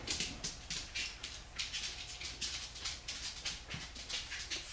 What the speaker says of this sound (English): my cats are over here fighting with the dogs